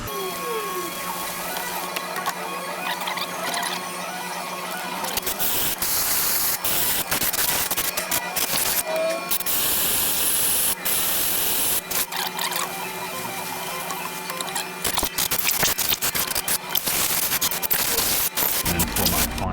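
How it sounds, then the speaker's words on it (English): Cleaner sprayed onto a part from a 2013 Ram 5.7 HEMI engine during a water pump replacement: a steady, close hiss of aerosol spray with clicks and clatter from the work, lasting throughout. "Just going to spray this off."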